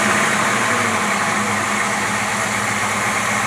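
An engine fitted with dual quad AFB carburetors runs steadily at idle, a continuous broadband rumble with a smooth even drone and no voices over it.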